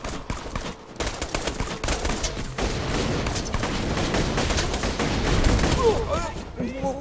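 Big guns in the video game Borderlands 2 fire rapid, dense bursts of gunfire that run almost continuously, with a person talking over the shooting.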